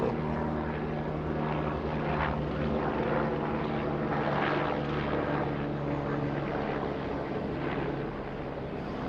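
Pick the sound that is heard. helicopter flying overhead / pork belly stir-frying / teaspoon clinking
helicopter flying overhead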